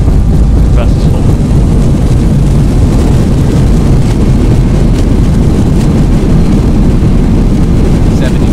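Full reverse thrust from an Airbus A320-200 landing at Gibraltar in X-Plane 11 roars as a loud, dense, unbroken rumble, steady throughout with a faint click or two on top.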